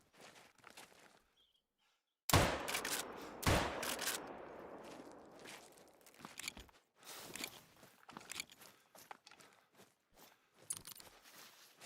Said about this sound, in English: Because we're just fucking shooting him wherever.